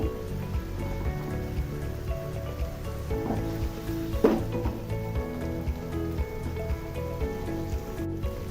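Bata fish curry cooking in a pan on a stove over raised heat, a soft steady sizzle and bubbling at low level, with a faint clatter near the middle and a brief click near the end, no talking.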